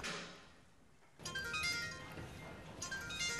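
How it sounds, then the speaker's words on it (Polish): A mobile phone rings with a bright electronic tone in a farmyard barn, starting after a brief lull and continuing steadily at low volume. "Nagle odzywa się komórka z informacją o rozpoczęciu porodu."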